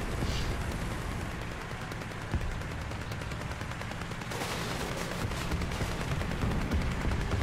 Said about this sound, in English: Nice little unaimed shot there, shooting through the grass.